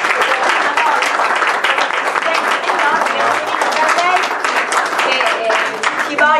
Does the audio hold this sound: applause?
yes